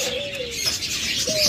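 Doves at a bird seller's shop give soft cooing and chirping calls close by, in short repeated phrases with brief gaps, against a busy background of other birds.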